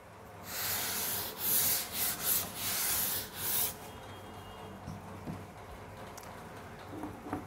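Writing being rubbed off a board, heard as several loud scrubbing swipes in quick succession, followed by quieter room noise.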